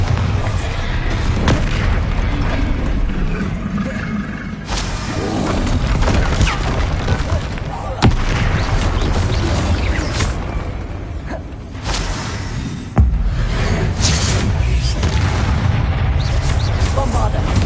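Bombarda blasting spell explosions in the Hogwarts Legacy video game during a Ravenclaw trial fight: several loud, sharp booms spaced seconds apart over a constant roar of combat noise, with a voice present.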